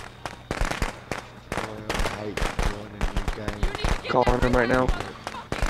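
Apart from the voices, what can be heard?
firecrackers thrown in Friday the 13th video game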